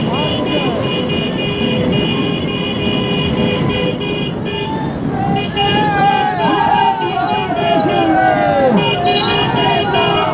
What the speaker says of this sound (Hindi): तो गाड़ी का हॉर्न है, बस आ चुके हैं।